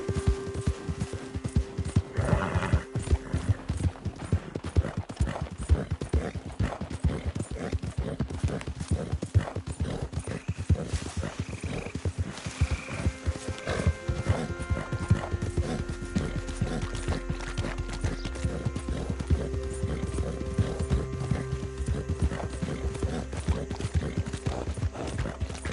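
Horse hooves clip-clop steadily through Red Dead Redemption 2, a continuous rapid gallop rhythm running the whole stretch, with a brief whinny and soft background game ambience underneath.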